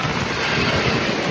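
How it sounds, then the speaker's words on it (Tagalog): Strong wind roars and buffets the microphone in a steady, rushing blast with no other sounds. "O, di ba ang hangin kahit summer?"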